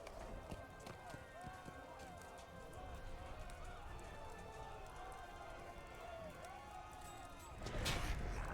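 A horse running in a video game, rapid hoofbeats over a busy battle soundscape with a faint whinny, ending in a louder burst of noise; a voice talks over it.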